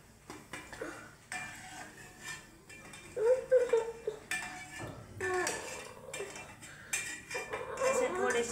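Fried gulab jamun are lifted out of a frying pan with metal utensils, making repeated close clinks and scrapes against the pan over a gentle sizzle of oil, with no talk.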